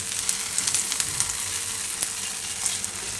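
Jowar pizza cooking on a very low gas flame with ghee, a close, steady sizzle dotted with small crackles and pops throughout.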